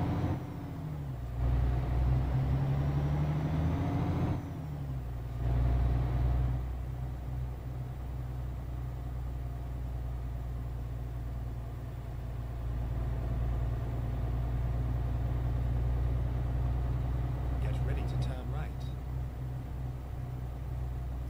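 A truck engine drones steadily while driving in Euro Truck Simulator, a constant low rumble with brief louder swells early on and faint clicking near the end.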